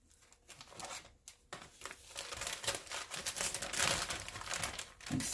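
A plastic gallon-size storage baggie is folded down and crinkled up close, giving a continuous rustling crackle that swells louder toward the end, with short pauses early on.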